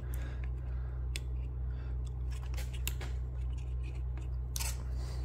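A small module is pressed into the slot of a Jetson Orin Nano board, giving scattered sharp clicks and scraping snaps close to the mic over a steady low background hum.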